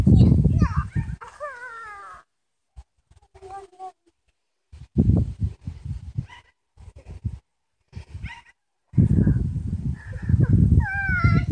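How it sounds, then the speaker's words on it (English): Havanese puppies play close by, yipping, whimpering and making high whiny squeals in scattered bursts separated by brief quiet gaps, with a person's voice mixed in at times. "Here's the puppies. They're being silly today. Look at them playing."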